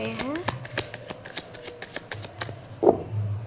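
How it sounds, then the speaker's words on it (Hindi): Tarot cards shuffled and flipped out during a reading, giving quick papery riffles and snapping flicks at an even pace, close up, with a voice speaking over them. "सो यहाँ पर कार्ड्स फ्लिप आउट हो रहे हैं।"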